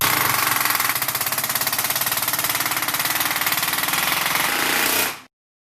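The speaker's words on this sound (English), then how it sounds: "Trim-Lok also offers a pneumatic air hammer that makes short work out of edge trim applications." A pneumatic air hammer used for fitting edge trim rattles in a rapid, continuous hammering burst, loud and close, then cuts off abruptly into silence.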